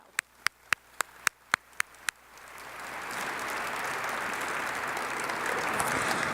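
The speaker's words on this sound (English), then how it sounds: "Could we please extend them a warm applause as well?" A run of seven sharp, evenly spaced claps or taps gives way to broad, swelling applause from an audience at the opening of a law, justice and development week event, growing steadily louder toward the end.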